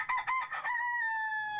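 A rooster crows at a farm, a single clear cock-a-doodle-doo with a long held final note, with the stuttering opening slightly distant and unaccompanied by talk.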